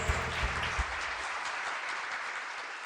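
A church congregation claps together in a sustained burst of applause that fades slightly toward the end, with a few sharper claps standing out at the start.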